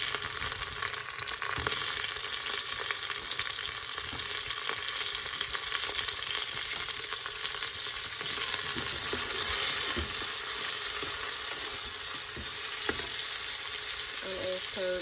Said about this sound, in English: start by frying the onion in 2 tablespoons of olive oil until it's browned a little bit